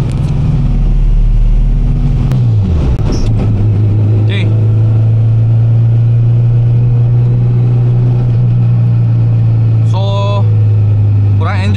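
Honda Integra DC2 engine idling and running steadily in a rainy traffic jam, a close, continuous low hum with a brief rev dip early on, while a voice talks over it.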